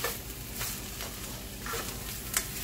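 Cabbage being stirred and tossed in a pan, with a steady sizzle under irregular scraping strokes and a sharper clink near the end, close and moderately loud, no talking.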